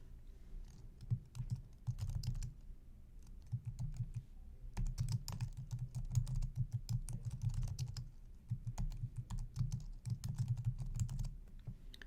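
Someone types on a computer keyboard in close, rapid bursts of key clicks, pausing between runs, with no talking.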